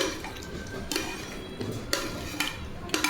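Paneer is stirred into a simmering curry in a pan. A spoon scrapes and taps the pan in a few distinct, fairly soft strokes about a second apart over a faint cooking background, with no talking.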